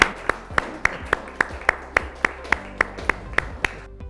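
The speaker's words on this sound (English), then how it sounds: "let's give her a huge round of applause" Handclaps at a school achievement celebration, about fourteen sharp evenly spaced claps from a small group or single pair of hands, close and fairly quiet, with a steady low hum underneath and no speech.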